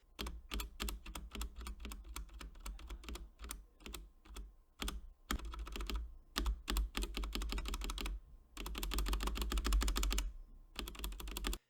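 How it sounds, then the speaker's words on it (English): Repeated clacking presses of a Leopold FC980M keyboard spacebar, before and after lubing, crisp and close, in irregular bursts with short pauses, then a rapid flurry of taps. "Here's a little before and after lubing the spacebar."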